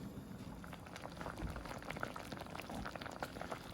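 Cranberry sauce boils in a pot with a faint, dense patter of bubbling and small pops that carries on steadily and quietly throughout.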